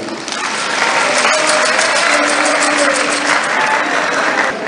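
Audience applause at a Guinean televised ceremony, a dense, steady wash of clapping from a large crowd that swells quickly and holds loud throughout.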